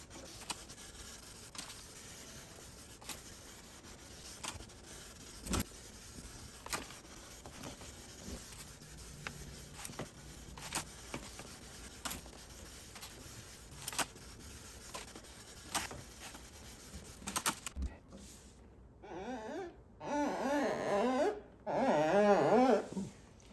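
A sanding pad rubs over a car headlight lens in repeated scratchy strokes, close and fairly quiet. A person talks near the end.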